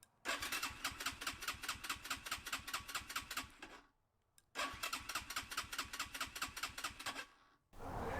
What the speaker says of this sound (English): turn the engine over a few times